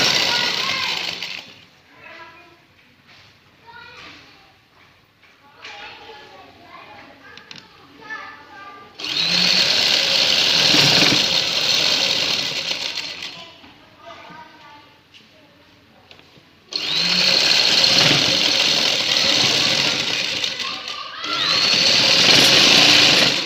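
A sewing machine runs in two long, loud bursts, stitching lace onto a shalwar sleeve, with someone talking between the runs.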